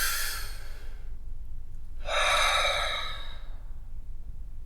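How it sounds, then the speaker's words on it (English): A slow, deep breath taken during a calming anxiety-relief exercise: a long soft exhale, a short pause, then a fuller close inhale, with no talking. "Take a nice deep breath."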